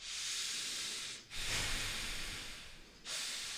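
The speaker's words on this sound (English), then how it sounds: "you breathe in and out through your nose" Long airy nasal breathing, a sustained exhale, a short pause, then a strong inhale and the start of another exhale, close up and alone without talk.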